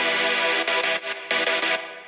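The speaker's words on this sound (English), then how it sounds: "there's a square wave in the chords that seems to be important" Layered synth chords with a square-wave tone, held with echo and chorus-style effects, dropping out briefly near one second before swelling back at steady loudness and fading at the end.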